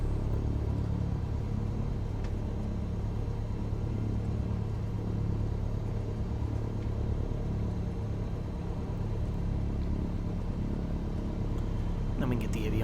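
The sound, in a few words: aircraft engine running at about 1,000 RPM, Microsoft Flight Simulator video game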